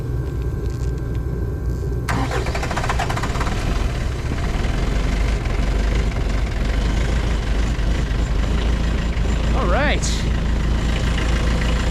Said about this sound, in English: now I've got my tractor started